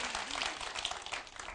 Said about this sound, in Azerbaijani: Alqışlayırıq bir daha Fujitsu'nu.